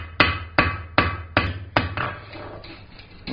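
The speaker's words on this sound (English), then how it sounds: "I'm going to come back here and keep rounding everything. Planishing, smoothing it out." Five sharp, ringing hammer blows from a flat face planishing a forged hot iron ball end on an anvil, evenly spaced about half a second apart, each with a bright metallic decay, then a quieter trailing ring.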